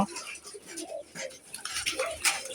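Pigeons coo faintly from nest boxes above a backyard chicken coop where hens lay below, soft intermittent calls over a busy low rustle and scattered clinks.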